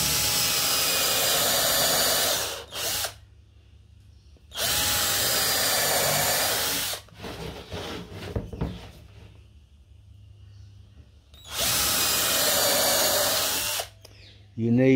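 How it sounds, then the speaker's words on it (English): A power drill with a smart bit pre-drills and countersinks holes in a flat-pack stingless bee box, running in three loud, sustained whirring bursts separated by quieter pauses with faint handling noise. "I can do the pre-drilling and the countersinking with this smart bit"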